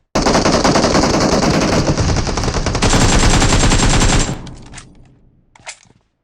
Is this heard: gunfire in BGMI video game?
yes